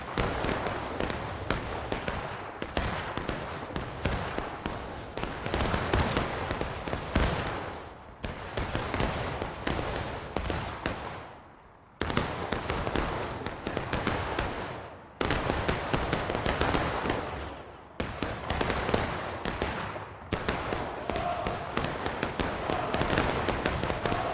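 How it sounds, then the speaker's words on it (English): Musket volleys and scattered rifle fire from the American Civil War video game War of Rights, with dense overlapping shots in sustained bursts that pause briefly around the twelve- and fifteen-second marks before resuming. "Go ahead and shoot."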